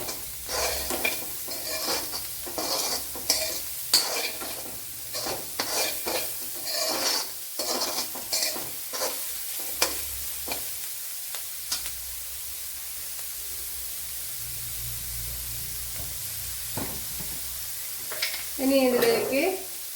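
Finely chopped carrot frying in a pan, with a steady sizzle under frequent scraping stir strokes that come in bursts, close up; the stirring thins out midway, then picks up again briefly at the end.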